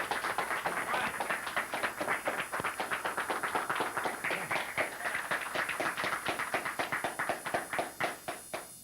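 An audience at a panel discussion on the death of Vince Foster applauds steadily for about nine seconds, with dense, even clapping from many hands close by and no talk over it.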